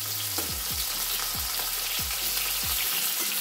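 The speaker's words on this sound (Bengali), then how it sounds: "সেদিকে দেখো মাছ ভাজাটা বসিয়ে দিয়েছি, অল্প অল্প তেলে ভাজবো।" Fish fries in a little oil in a pan, giving a steady close sizzle throughout, broken by several low knocks and clinks from the pan or utensil.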